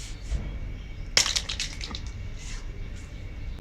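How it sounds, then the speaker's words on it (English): A hammer strikes ice frozen onto a Rubik's cube with one sharp, close crack, followed by short crunching and scattered tinkling of broken ice fragments against a quiet background. "I have smashed the cube with the hammer very lightly"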